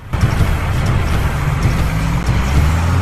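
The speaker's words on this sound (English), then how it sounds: "This is a road roller." A road roller in a kids' construction cartoon rumbles with a steady low engine drone, continuous and fairly loud, with faint higher mechanical noise over it and no talk.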